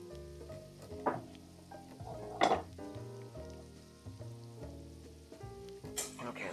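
Potatoes being stirred as they fry in a pan of oil, heard as a steady low sizzle with a few clinks and scrapes of the utensil against the pan, fairly quiet and without speech.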